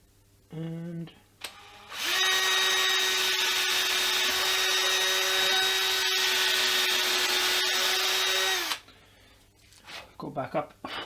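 A power drill bores into a handmade guitar body while hardware is fitted, a steady loud whine with a bright harmonic tone held for about six seconds, with brief voice and handling noises before and after.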